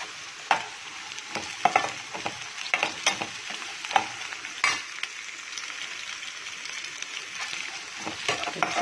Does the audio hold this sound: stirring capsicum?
yes